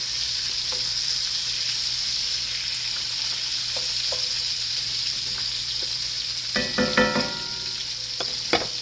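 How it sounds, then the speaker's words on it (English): Sausages brown in a hot pan with a steady, close sizzle and crackle, and a few louder clattering stirs come near the end. "Brown up these sausages."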